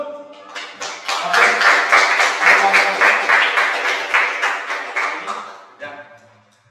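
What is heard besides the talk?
classroom applause for a presenting group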